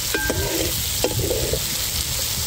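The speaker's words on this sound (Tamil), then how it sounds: "நெய்யிலே வேக வைக்கிறேன்" Duck meat fries in ghee with a steady, close sizzle, while a utensil stirs and scrapes the pan now and then over the continuous hiss.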